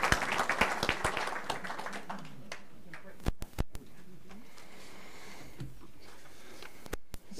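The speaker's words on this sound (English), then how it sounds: "But one more round of applause for our board members." Applause for school board members at a board meeting: a room of hands claps loudly at first, then fades into scattered claps and murmurs, with a couple of sharp knocks.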